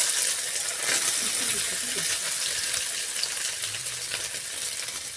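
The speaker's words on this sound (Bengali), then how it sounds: "যেহেতু সয়াবিনটা ভাজবো সেই কারণে তো এবার সয়াবিনগুলো ওর মধ্যে দিয়ে দেবো" Soybean chunks fry in hot oil, producing a steady, even sizzle and crackle at close range that eases slightly toward the end, heard alone.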